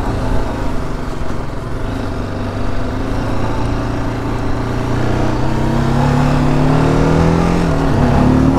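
A 2023 TVS Apache RTR310 motorcycle is ridden, its engine droning loudly and up close, with the pitch climbing smoothly as it accelerates through the gears and no talk over it.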